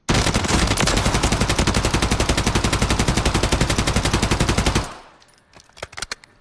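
Rapid, evenly spaced bursts from an SVA 545 rifle in Modern Warfare, loud and relentless for about five seconds, then a few scattered shots and clicks as it stops.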